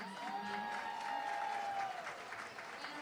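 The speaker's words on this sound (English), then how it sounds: "O'Neill gets a nice round of applause from the crowd." A crowd at a high school football game between Canby and Wilsonville applauds a runner, a moderate, steady patter of clapping from the stands with a sustained tone and faint distant voices mixed in.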